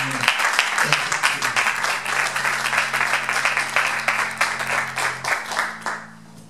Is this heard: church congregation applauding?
yes